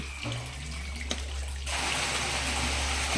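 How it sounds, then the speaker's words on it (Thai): A Sobo WP 2600 water pump drives a spraying fountain, a steady rushing wash of water that swells louder and fuller partway through, close and continuous with no talk. "จะลองดูว่า ปริมาณน้ำไหลโอเคไหม"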